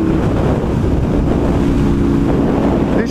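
A Husqvarna 900 Nuda motorcycle's engine and exhaust roar loud and steady throughout while riding, with heavy wind buffeting on the microphone.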